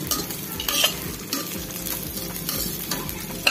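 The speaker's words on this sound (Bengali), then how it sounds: "এবার আমি চালটা দিয়ে দেবো, ভালো করে নেড়ে নেবো, চালটা ভেজে নেবো।" Raw rice being stirred and fried in a pan for a sweet Bengali basanti pulao, producing a steady close sizzle with repeated scraping strokes of a spatula and a few sharper clicks.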